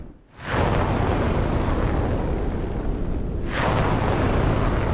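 Missiles launching from Moscow in a war video game, a sudden loud roaring blast that settles into a sustained, rushing thunder, followed by a second surge of roaring launch noise a few seconds later.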